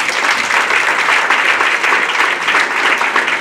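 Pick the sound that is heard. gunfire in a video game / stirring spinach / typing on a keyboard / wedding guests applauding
wedding guests applauding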